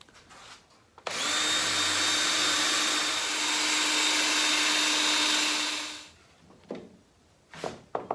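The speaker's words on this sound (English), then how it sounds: "So we get those drilled" A power drill boring holes during assembly of a wooden demilune table, one sustained high whirring run of about five seconds, close and loud, followed by brief handling knocks.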